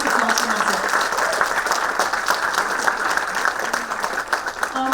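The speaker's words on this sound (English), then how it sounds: "big round of applause for Nasir." Audience applause welcoming a performer onto a stage at an arts talk, steady dense clapping from a sizable crowd, fairly loud and continuous with faint voices mixed in.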